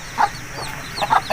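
Aseel chickens clucking in a pen with inner coops and outer wire mesh, a few short close clucks in quick succession.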